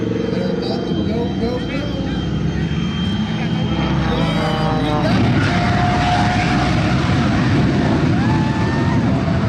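Smoke and Thunder jet car's engine spooling up at the Blue Angels Homecoming Airshow, a loud continuous roar that swells and builds steadily, with crowd and announcer noise around it.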